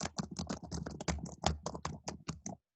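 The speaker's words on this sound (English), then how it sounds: "I'm typing it." A computer keyboard clatters in a quick, close run of key presses during an online coding lesson, irregular taps packed tightly for a couple of seconds before stopping.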